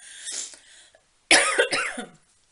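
A person coughs after choking on their own breath: a brief throat sound, a pause, then a louder, close burst of several harsh coughs fading out.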